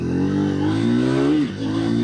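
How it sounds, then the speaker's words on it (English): A Triumph Thruxton 400 cafe racer motorcycle accelerating hard, a loud close engine note rising in pitch, dipping briefly at a gear change, then climbing again. "Let me show you the acceleration one more time."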